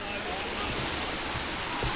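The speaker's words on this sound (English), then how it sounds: "It's only a skinny waterfall." A small, skinny waterfall on Koh Chang, Thailand, drops from a fair height, giving a steady, even rush of falling water that fills the whole short stretch.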